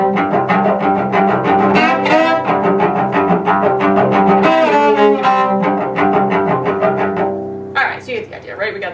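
Solo cello playing the opening of an etude, with sustained double stops sliding in glissandos to imitate a train whistle, continuous and close, ending in a brief rising slide.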